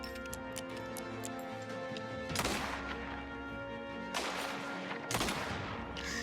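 Gunfire in the video game Mafia The Old Country, a few sharp shots at irregular intervals over steady music and ambience, with no talk.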